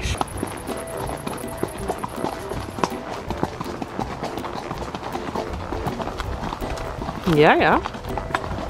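A pony's hooves clop at a walking pace across a bridge in a steady run of close, hard knocks, while people talk quietly nearby and one voice briefly rises.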